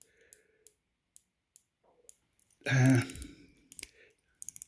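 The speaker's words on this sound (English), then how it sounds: "The bezel action on this is actually, it's okay. It's 60 click." A budget military-style Addies MY050 wristwatch's 60-click bezel turns with sparse, faint ticking clicks, interrupted midway by a brief louder breathy sound.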